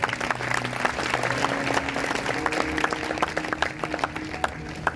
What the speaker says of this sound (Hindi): अगर आए हैं तो जोरदार तालियां बजाएंगे।